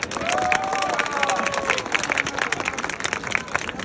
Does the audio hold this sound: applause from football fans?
yes